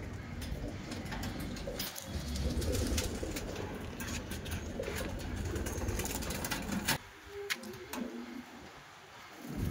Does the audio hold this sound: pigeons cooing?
yes